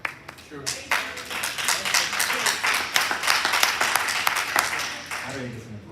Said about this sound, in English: I already get some applause